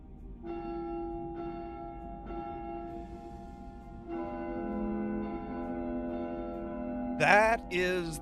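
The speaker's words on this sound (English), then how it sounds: "That is the ringing of the bells." Church bells toll inside the video game The House of Da Vinci III, several steady resonant strikes with long ringing overtones, joined later by a brighter swell of chiming and a couple of sharp sweeping flourishes near the end.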